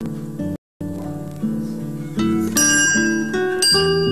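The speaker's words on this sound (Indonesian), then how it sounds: "Tanda usai mengerjakan ujian pun sudah terdengar dari besi bekas gir motor sebagai pengganti bel sekolah." Scrap iron from a motorcycle gear struck as a makeshift school bell, ringing in repeated bright metallic clangs that layer and sustain, growing louder toward the end, with a brief dropout early on.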